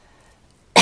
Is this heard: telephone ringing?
no